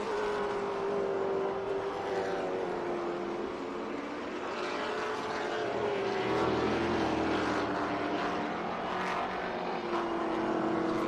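Race cars at Barber race track during championship racing, with a sustained engine whine that swells and drops in pitch as the cars sweep past at a distance, continuous with no talking.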